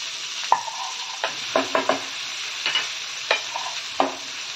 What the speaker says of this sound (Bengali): তারপরে দিয়ে দিচ্ছি পেঁয়াজ। বড় একটা পেঁয়াজ আমি কুচি করে নিয়েছি।